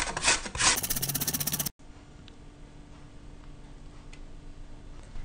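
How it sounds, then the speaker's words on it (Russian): A carrot is grated on a coarse grater in a kitchen, producing a quick run of rhythmic scraping strokes up close that stops abruptly and leaves quiet room tone. "Морковку натираем на крупной терке."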